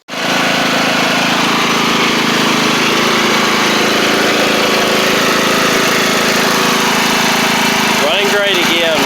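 Powermore engine on a Columbia lawn tractor with carburetor inlet screen trouble, idling steadily and loud at close range after a sudden start, with a brief burst of other sound near the end.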